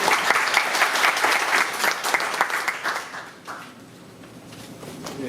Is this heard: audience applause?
yes